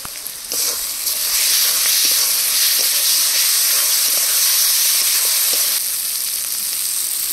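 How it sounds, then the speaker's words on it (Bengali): Loud, continuous sizzling of onions frying in hot oil with garlic and chili paste, with occasional faint clicks of stirring and a slight drop in intensity near the end. "পেঁয়াজগুলো ভাজা হয়ে গেছে, এবার রসুন আর লঙ্কা বাটা দিয়ে কষিয়ে নেব।"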